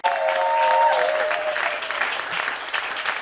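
A church congregation bursts into loud, sustained applause and cheering at a Sunday service, with a sung or held voice line over the first second.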